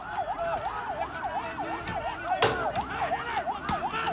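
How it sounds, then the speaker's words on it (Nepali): A municipal fire engine siren wails in a steady, repeating rise-and-fall during street unrest in Kathmandu, under crowd noise with a sharp bang partway through. "आगो नियन्त्रण गर्न आएको महानगरको दमकल थियो।"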